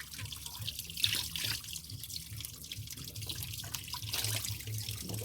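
Glasses are washed under a running kitchen tap in a sink, a quiet, steady stream of water with small splashing variations throughout.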